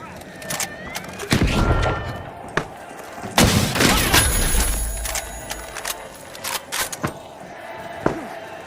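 A frag grenade thrown and exploding in the shooter game The Finals, with a heavy low boom and scattered thuds and impacts among other gunfire-like bursts across the clip.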